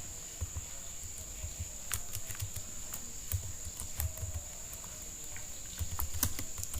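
Keys tapped on a computer keyboard to enter a web search, scattered close clicks over a steady high electronic whine and low background hum, no voices.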